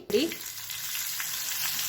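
Cumin and mustard seeds hit hot oil with a quick crackle, then settle into a steady, close sizzle that continues to the end.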